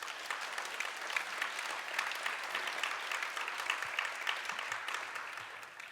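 A talk-concert audience claps together in a steady, even wash of applause that holds for several seconds at moderate loudness, with no voices over it.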